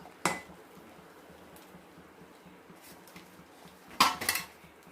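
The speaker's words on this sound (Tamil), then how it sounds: "கடைசியாக தேங்காவை எடுத்து போடணும்." Coconut being added to a pot of sweet milk kozhukattai, with two sharp metallic clanks of a utensil against the pot, one early and a louder cluster near the end, over quiet background with no talking.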